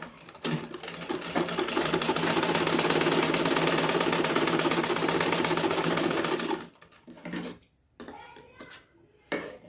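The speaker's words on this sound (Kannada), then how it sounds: "ಇಲ್ಲೂ ಅಷ್ಟೇ 1/4 ಇಂಚ್ ಅಷ್ಟೇ ಸ್ಟಿಚ್ ಹಾಕಿ" A sewing machine runs steadily, stitching a quarter-inch seam on a blouse lining, its fast mechanical whir loud and close for several seconds before stopping, followed by scattered handling noises.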